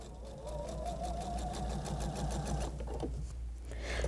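A sewing machine stitches quilt fabric at a steady, fast rhythmic hum that runs without a break, close and moderately loud.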